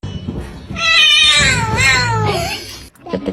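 A house cat gives a loud, drawn-out meow that rises and falls in pitch, close by and lasting about two seconds, with a brief shorter sound at the end.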